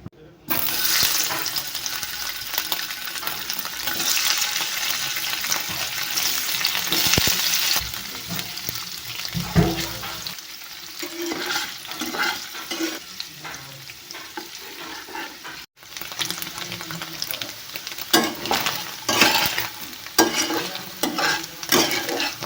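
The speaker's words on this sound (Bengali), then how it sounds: "সরষে অয়েল দিচ্ছি। পনির ভাজা করে নিব প্রথমে।" Loud, continuous sizzling of paneer frying in mustard oil with stirring scrapes, dipping briefly midway before the crackle resumes; faint talk now and then.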